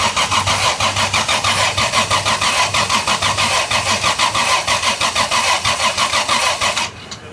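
The LS-swapped Mazda RX7 engine cranks loudly and rhythmically for about seven seconds without catching, the starter's steady whirring pulses cutting off abruptly at the end.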